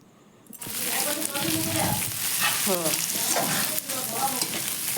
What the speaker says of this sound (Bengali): আমি আলুটাকে লাল লাল করে ভেজে নিয়ে